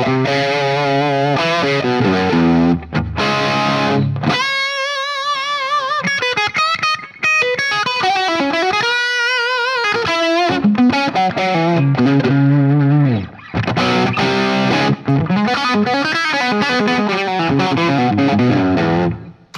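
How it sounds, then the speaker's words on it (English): Heavily distorted electric guitar on the bridge pickup of an Enya Nova Go Sonic carbon fiber guitar with built-in amp, playing sustained notes and bends, loud and continuous with brief gaps between phrases. "So here's just the bridge pickup."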